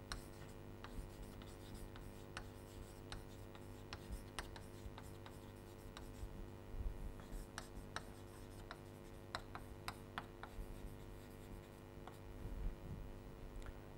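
Pen or marker writing on a board or paper during a logic lecture, a steady run of faint scratchy strokes and taps over a low room hum, with no talking.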